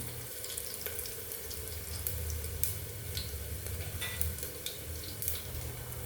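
Asafoetida drops into hot oil for Kathiyawadi masala khichdi, and the pan answers with a continuous bright sizzle and spitting crackles scattered over a steady hiss, close and fairly loud.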